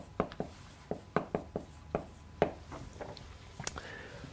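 Chalk taps and strokes on a board during a maths lesson on invertible matrices, a run of sharp clicks and short scratches in an irregular rhythm, close and clear with no talk over them.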